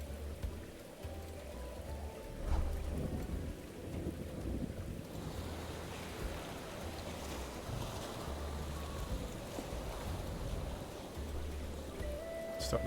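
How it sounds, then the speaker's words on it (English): Steady rain falls by the docks in the online game Brighter Shores, a continuous broadband hiss with a low rumbling wash, even and unbroken throughout with no talking. "It's always raining by the docks."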